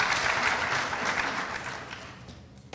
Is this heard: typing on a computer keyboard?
no